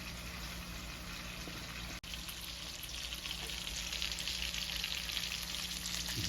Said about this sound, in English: she cooked the lamb chops for 5 minutes on that one side